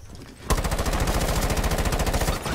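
Automatic gunfire from the video game Rainbow Six Siege: a loud, rapid burst of evenly spaced shots rattles on for about two seconds without pause, then stops abruptly.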